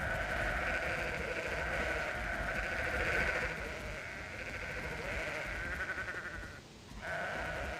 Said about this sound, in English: This minigame is horrible. You have to group all the sheep together.